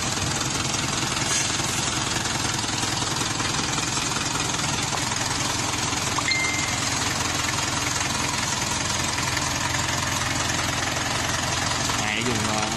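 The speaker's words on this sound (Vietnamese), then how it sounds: "cơ nổ rất là êm nha" Iseki 505 tractor engine running smoothly, a steady close chugging drone that continues throughout, with someone talking over it.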